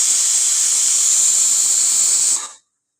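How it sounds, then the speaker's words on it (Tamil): Pressure cooker whistle venting steam while spinach cooks, a loud steady hiss that holds for over two seconds and then cuts off abruptly into silence. "குக்கர் இப்போ விசில் வந்துடுச்சு"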